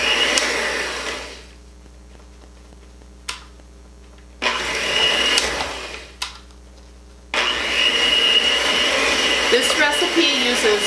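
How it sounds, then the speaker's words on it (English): An electric stand mixer creams sugar and butter in bursts, its motor whirring loudly, cutting off, then restarting several times with brief quiet gaps and clicks between runs. "we'll stop and start the mixer so the sugar doesn't fly out"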